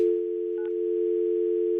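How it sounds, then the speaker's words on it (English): A steady telephone dial tone hums close and loud while a call is being placed, with one brief faint beep partway through. "All right, calling Kim"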